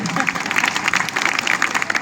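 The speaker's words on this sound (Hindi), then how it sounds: "एक बार ताली अच्छे से बजाइए" An audience at a Hindi comic poetry gathering claps enthusiastically, a brief burst of dense, fairly loud applause with some voices faintly underneath.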